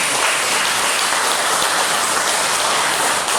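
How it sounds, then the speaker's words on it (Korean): A church congregation at a Sunday worship service applauds in encouragement, a dense, steady wash of clapping that stays fairly loud and even throughout with no voices over it. "우리 격려의 박수를 보내주십니다"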